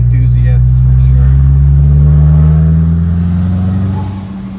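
Turbocharged 1992 VW Golf GTI Mk2 engine revving up loudly and close, a deep droning tone climbing steadily in pitch and holding before easing off near the end, with no voices over it.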